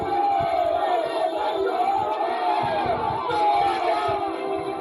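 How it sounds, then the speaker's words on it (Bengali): A political crowd at an Alipore vote-counting centre chanting a rhythmic two-syllable slogan, many voices shouting together in a steady, pulsing cadence, loud and close, with cheering mixed in. "তৃণমূলের নাম্বার 2 কে দেখে উঠল চোর চোর স্লোগান"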